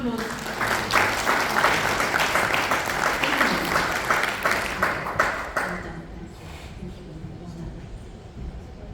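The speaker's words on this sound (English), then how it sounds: "Let's give them a round of applause." Audience applause at a steel and ferroalloys conference, a full sustained round of clapping that fades out toward the end, with some voices underneath.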